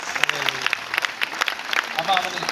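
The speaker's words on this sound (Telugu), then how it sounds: "గట్టిగా చప్పట్లు పట్టండి ఒకసారి." An audience claps loudly in scattered, uneven bursts of hands, with voices talking over and between the claps.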